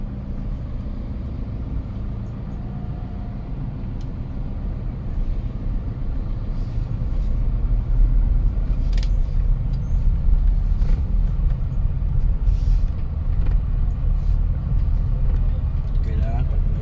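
A Toyota Hiace 3.0 engine with heavy vibration runs steadily, a deep low rumble that grows slightly louder partway through, with someone talking over it.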